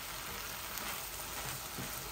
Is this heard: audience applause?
no